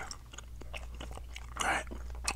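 Bubble gum is chewed up close and quiet, with soft wet smacking and crunchy mouth clicks repeating and a brief louder snap near the end, and no words spoken.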